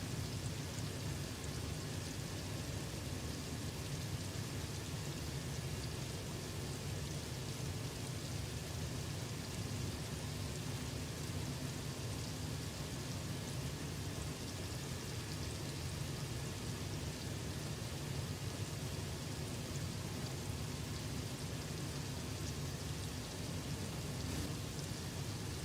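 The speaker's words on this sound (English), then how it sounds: "Love the sound of the rain on the metal roof." In the video game Satisfactory, rain drums on a metal roof: a dense, even hiss of drops that holds steady and fairly soft throughout, with no voices.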